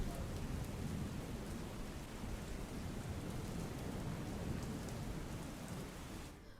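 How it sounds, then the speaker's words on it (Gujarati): Heavy rain pours down in a dense, continuous roar, steady and loud throughout, with no voices; a downpour in Botad, Gujarat. "બોટાદમાં અવિરતપણે વરસાદ વરસી રહ્યો છે"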